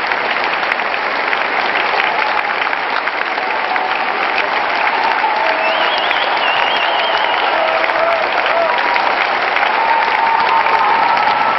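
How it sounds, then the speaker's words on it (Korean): A concert audience in Hanover, Germany, gives a standing ovation after an opera singer's performance, with dense, sustained applause and cheering that stays loud and steady throughout. "끝나자 침묵은 환호와 기립박수로 바뀌었다."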